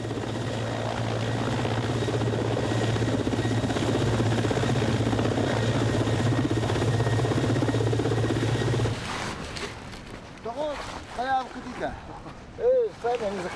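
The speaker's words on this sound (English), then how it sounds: "In spite of the rain and a powerful wind, helicopters managed to land on Lyakovsky Island." A helicopter on Lyakhovsky Island in rain and wind, its loud, steady rotor and engine roar running for several seconds before cutting off, followed by people talking.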